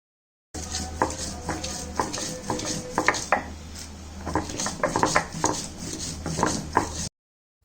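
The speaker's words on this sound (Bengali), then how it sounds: "আমি একটি পাটায় প্রথমে পেঁয়াজ মরিচগুলো বেটে নিব।" Onions and chilies are ground on a pata, a flat grinding stone, with repeated scraping, knocking strokes in an uneven rhythm, close and fairly loud, without speech.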